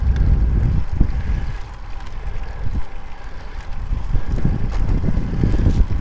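A south headwind buffets the microphone outdoors on the water, making low rumbling gusts that swell and ease without stopping.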